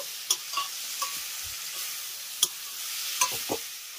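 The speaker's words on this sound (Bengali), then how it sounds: "এবার আলুর সঙ্গে কাঁচা টমেটোটাকে একবার ভালো করে মিশিয়ে নেব।" A spoon stirs raw tomatoes into frying potatoes in a pan, making soft scrapes and a few sharp knocks against the metal over a faint sizzle. No one speaks.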